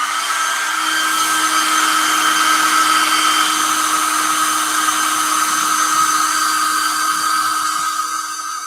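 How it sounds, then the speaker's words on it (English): A hair dryer blowing on small painted resin skulls, a loud, constant high whine and airy roar held close and steady throughout. "Give him the old hair dryer treatment."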